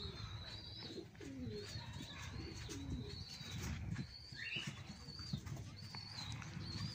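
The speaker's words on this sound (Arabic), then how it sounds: "يعني الحمام" Soft, low pigeon coos repeat over a steady outdoor background, with occasional higher bird chirps scattered throughout.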